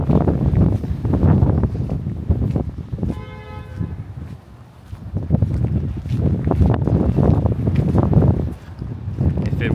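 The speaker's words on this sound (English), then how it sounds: "It's blowing quite strongly at the moment, but if it weren't for that wind" Strong wind buffets a microphone outdoors on a neighbourhood walk through Westmount, Montreal, a loud rumbling roar that surges and eases, with a brief quieter lull partway through.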